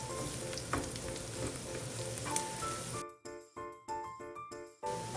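Garlic sizzles in hot oil and butter in a pan, a steady close frying hiss that then breaks into bursts with pauses as the pan is stirred and shaken, a few metallic clinks between.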